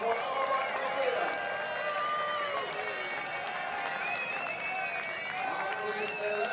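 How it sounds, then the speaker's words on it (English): A crowd cheers for Swedish orienteering runner Anna Backman during a long-distance race at the 2016 World Orienteering Championships. The steady, moderately loud crowd noise runs throughout, with a voice talking over it. "some cheering now for Anna Backman of Sweden"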